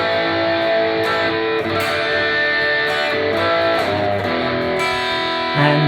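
Distorted electric guitar played through Epiphone Firebird pickups, sustained crunchy chords ringing loud and full with a few chord changes, heard alone without talk.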